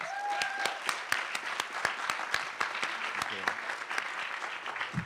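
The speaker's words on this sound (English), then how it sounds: "May we please give them a round of applause." An audience at a law school cultural celebration gives a round of applause, a soft wash of many hands with a few sharper nearby claps standing out, and faint voices underneath.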